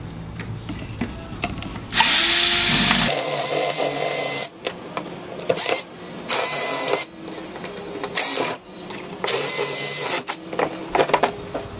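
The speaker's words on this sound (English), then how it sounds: "What we're going to do is just drill down through the center of each pot rivets and get it loose." A power drill whines loudly in several bursts of a few seconds each, pausing briefly between runs as it drills out the metal pop rivets holding an EZGO TXT golf cart body.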